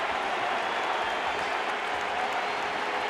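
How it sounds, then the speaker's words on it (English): A big stadium crowd at Fenway Park applauds steadily during a Yankees versus Red Sox baseball game in 2004, a continuous even roar of clapping. "This crowd here at Fenway right now is applauding the ejection of Alex Rodriguez"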